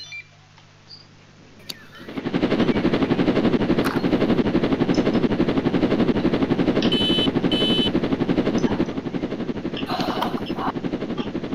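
A helicopter in Roblox starts up after a short quiet stretch, then its steady rapid rotor chopping runs loud and close throughout, with a few short electronic beeps layered on top.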